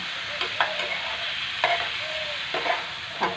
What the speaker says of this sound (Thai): หอมกระเทียมหอมหัวหอมนะคะ ผัดให้เข้ากันนะคะ